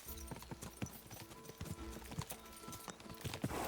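Galloping horse hooves in the medieval game Kingdom Come: Deliverance II, a fast steady drumming of hoofbeats with clinking tack, quiet and continuous for several seconds.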